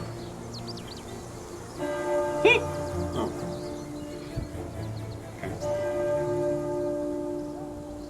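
A church bell tolls in the video game Pillars of the Earth, with resonant, sustained strikes ringing out over a dim ambient background for several seconds.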